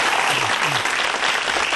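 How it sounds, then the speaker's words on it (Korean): A dense wash of audience applause greets a science lecture on the human brain by an ETRI researcher, continuous and even throughout the short span with no voices. "큰 박수로 강연 청해 듣겠습니다"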